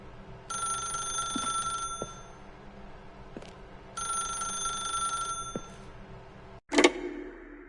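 A telephone rings in two long electronic bursts in the video game The Stanley Parable, clear and steady with a pause between rings, followed by a sharp click as the receiver is picked up.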